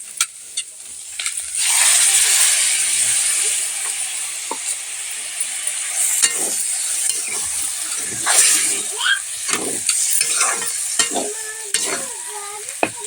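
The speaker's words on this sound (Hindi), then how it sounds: "मसाले को अच्छे से भून लेते हैं।" Spice masala frying in a pan with tomato and potato curry, a steady close sizzle and hiss broken by repeated scraping stirs of a spoon, continuing throughout.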